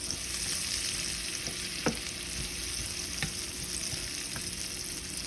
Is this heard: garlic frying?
yes